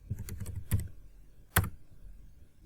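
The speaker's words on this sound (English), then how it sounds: "Now simply type Control and hit Enter." A few quick keystrokes on a computer keyboard, close and clear, followed by one sharper, louder press of the Enter key, then quiet.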